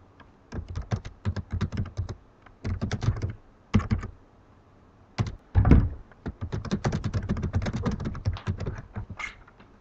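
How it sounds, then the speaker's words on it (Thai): Someone types on a computer keyboard in close, steady bursts of clicking keystrokes separated by short pauses, with one heavier thunk midway, alone without speech. "จากนั้นพิมพ์ชื่อก่อน แล้วพิมพ์คำอธิบาย"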